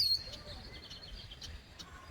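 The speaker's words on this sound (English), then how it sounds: "I'm right by a red-winged blackbird" Faint, brief chirps from a red-winged blackbird sound at a distance on a quiet evening around 7:30 in southern Wisconsin, over low background hiss.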